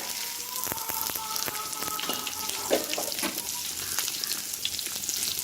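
Onion, garlic and pepper sautéing in a pan for pirandai (adamant creeper) rasam, giving a steady close sizzle with scattered crackles and a few soft stirring scrapes throughout.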